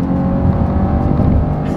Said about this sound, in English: naturally aspirated V6 here up to speed